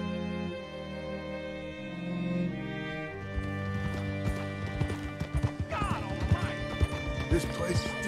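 A horse in the Western game Red Dead Redemption 2 clip-clops on its hooves, with a rhythmic hoofbeat and a neigh over a game score. Characters talk over the sound.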